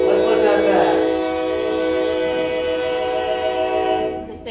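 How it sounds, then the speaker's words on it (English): A train passing through sounds a loud, sustained multi-tone horn blast that holds steady for several seconds before cutting off, with rolling rail noise underneath and a voice briefly heard at the start. "There's a train coming through."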